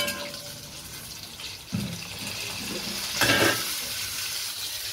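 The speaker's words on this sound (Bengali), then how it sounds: "আর পটলটাকে একটু লাল লাল করে ভেজে নেব" Pointed gourd frying in a pan, a soft steady sizzle with brief louder stirring bursts near the middle and later on, close by with no talk.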